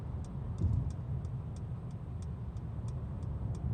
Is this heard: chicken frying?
no